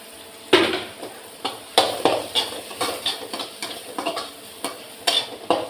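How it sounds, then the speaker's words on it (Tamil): Bitter gourd podimas fries in a pan with red chili powder, a steady sizzle punctuated by sharp, regular spatula strikes and scrapes against the pan, loud and close. "இப்படியே நம்ம ஃப்ரை பண்ணிக்கிட்டே இருக்கணும்."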